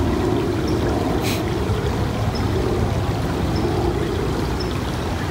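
A creek in San Jose runs past its bank, where ducks gather, making a steady, continuous rush and gurgle of flowing water, fairly close and unchanging throughout, with no voices.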